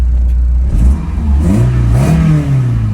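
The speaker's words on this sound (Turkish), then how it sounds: "Gaz verdim, bıraktım." Close-up engine of a VW Polo hatchback with a new throttle body, previously prone to stalling and rev fluctuation, blipped once: the pitch climbs quickly, holds, then drops back toward idle.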